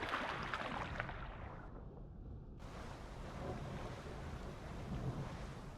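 A dinosaur, a Pycno, wades across a river in the Path of Titans game; faint, steady rushing water and wind-like noise with no talking.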